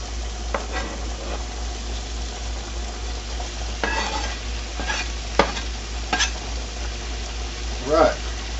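Onions stirred in a frying pan, with a soft continuous sizzle broken by several scraping stirs of a utensil and a brief clatter near the end, close and moderately loud, no talk over it.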